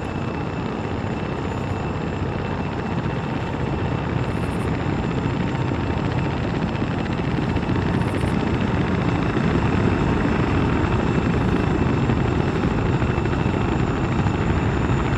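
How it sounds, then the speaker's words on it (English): A UH-1 helicopter in an Arma military-simulation video game drones loud and steady throughout, a dense continuous rotor and engine roar with no talking over it. "God damn it, our helicopters sound good."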